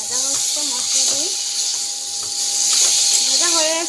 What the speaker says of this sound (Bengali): আর এটা এখন ভাজা হচ্ছে মশলা দিয়ে,